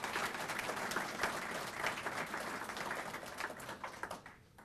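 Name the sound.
audience applause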